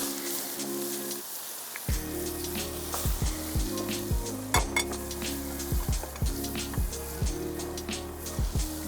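Onions frying in a hot pan previously used for squid, with steady sizzling and repeated clinks of a utensil against the pan; close and fairly quiet, with no talking.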